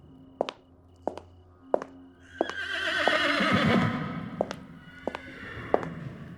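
A horse whinnies loudly and close as a carriage arrives, a long shrill neigh rising over sharp hoof thuds and clip-clop steps, with no talking.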